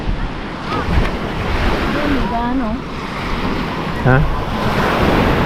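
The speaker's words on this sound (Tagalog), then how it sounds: "Medyo may alon." Ocean waves and surf wash steadily at a beach, blended with wind buffeting the microphone, while someone speaks briefly and a couple of voices call out over the water.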